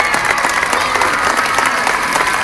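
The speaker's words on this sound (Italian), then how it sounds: "un bel applauso allora il resto del gruppo" Roadside crowd at the Giro d'Italia applauds cyclists passing through a town, a dense continuous clapping close by with light cheering mixed in.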